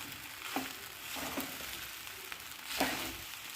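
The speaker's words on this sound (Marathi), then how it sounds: "साबुदाणा हा मी तीन वाटी घेतलेला आहे आता याला छान हलवायचं आहे" Sabudana (tapioca pearls) is stirred in a pan for khichdi, giving a soft, low sizzle and a few spaced scraping strokes of the spoon, quiet and close with no voices.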